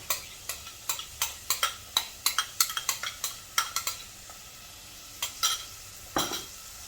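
Onions and ginger cooking in hot oil in a saucepan: a soft background sizzle punctuated by a rapid, irregular series of sharp utensil taps and scrapes against the pan, then a few spaced knocks, fairly quiet, no speech.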